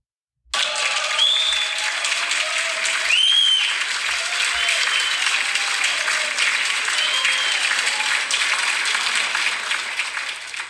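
Sustained applause from a crowd, dense steady clapping that starts abruptly and carries on evenly at full strength throughout, with occasional brief shouts or whistles rising above it.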